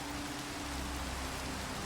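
Steady rain falling outdoors, a continuous even hiss with a low hum beneath it, no voices.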